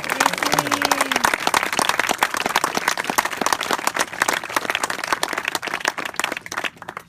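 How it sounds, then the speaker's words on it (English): Lively applause and clapping from an audience after Celine Molina, a music student, performs a song; many hands clap quickly and loudly at close range, a brief voice rising early on, the sound thinning slightly near the end. "Let's hear a really nice loud round of applause for Celine Molina."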